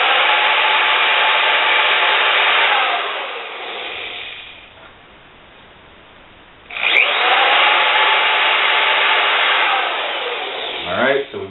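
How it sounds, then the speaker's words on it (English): A power drill drives screws into the frame of an acoustic panel, whining loudly, fading out for a couple of seconds, then revving hard again close by; a brief voice is heard near the end. "and then drill for the other 3"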